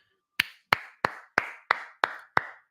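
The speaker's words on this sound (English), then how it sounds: "Give these guys a round of applause." Seven sharp, evenly spaced hand claps ring out close and alone after a UFC Contender Series fight, a single slow round of applause with brief silences between.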